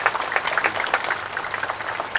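An audience at a Manila city event claps, a brief spread of scattered, moderately loud hand claps without speech.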